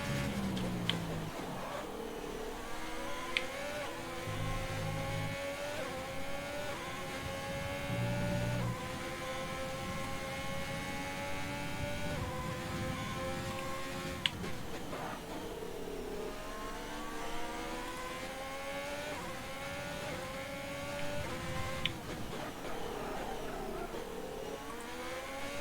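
Simulated Formula 1 cars from F1 2020 race wheel to wheel at the Spanish circuit, a high engine whine climbing and dropping through gear changes, steady and loud throughout with brief shifts as a rival draws alongside.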